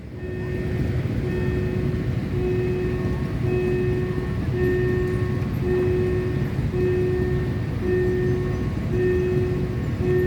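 A diesel railcar, NKF 1216 leading train 4384 on the Mae Klong line, rumbles past a level crossing steadily at close range, its engine drone and a sustained tonal hum continuous throughout, with no voices.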